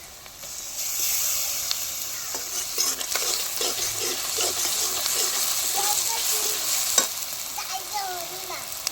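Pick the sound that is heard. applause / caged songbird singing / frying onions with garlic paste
frying onions with garlic paste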